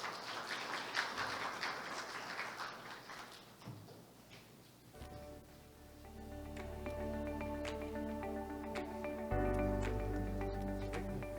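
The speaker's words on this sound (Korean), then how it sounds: "박수 부탁드리겠습니다" An audience at the 2022 Incheon robot industry conference applauds a speaker onto the stage. The clapping is quiet and distant, then fades as soft tonal music takes over.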